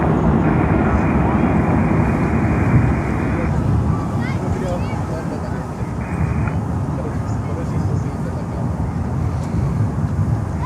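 British Airways Airbus A380 landing on runway 9 at Miami airport, a broad steady jet roar at moderate distance with wind buffeting, holding level through the whole stretch.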